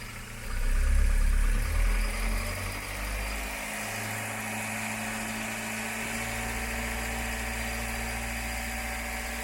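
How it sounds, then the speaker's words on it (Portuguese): VW Gol engine with a flickering oil pressure light, revved up to about 2000 RPM: a steady mid-pitched engine drone that swells loudly in the first seconds, then settles into an even, sustained hum. "Acelera até 2000 RPM,"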